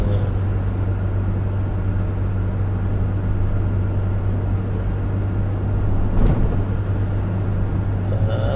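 A manual car on a driving lesson runs in a steady low engine drone with road rumble inside the cabin and a faint bump near the end. An instructor's voice comes through quietly.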